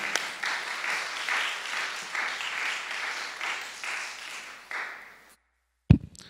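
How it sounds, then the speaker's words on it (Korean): Church congregation clapping to welcome a pastor, a steady wash of applause in rhythmic waves that fades out into silence, followed by a single sharp knock or thump near the end. "우리 목사님 박수로 환영했으면 좋겠습니다."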